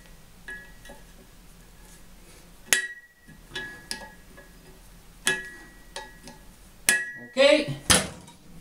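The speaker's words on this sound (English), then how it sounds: "what I do, I fold the ears on the lock washer." Metal tool strikes folding the ears of a lock washer on an outboard jet impeller, several sharp clinks and taps spaced irregularly, with a quick cluster of metallic knocks near the end.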